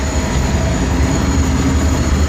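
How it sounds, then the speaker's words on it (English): A loaded coal train with old-style open-top wagons passes close by in Oakey, a steady heavy rumble and rolling wheel noise that holds at constant loudness throughout, with no voices. "And here comes a train, coal train, loaded with coal."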